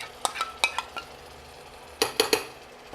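A spoon clinks and scrapes against the pot in short, quick bursts while yogurt masala is stirred into a potato and tomato curry. A soft sizzle runs underneath, and no one speaks.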